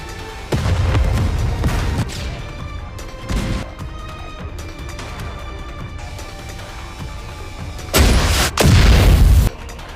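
Rapture artillery fire rains down in a NIKKE battle, with heavy booming blasts and crashing impacts in bursts, the loudest barrage near the end, over a continuous rumbling backdrop.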